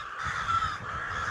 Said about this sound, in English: Look at all the birds nesting in there.